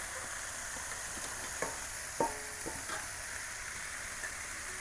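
Freshly picked water spinach (kalmi shak) with a little turmeric sizzles softly in a pan, steady low frying broken by a few scraping stirs of a spatula, close and with no talking.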